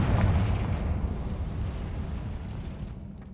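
A Confringo fire spell blasts in Hogwarts Legacy, a deep, rumbling explosion that hits hard at once and then rolls away slowly over a few seconds, with no voices over it.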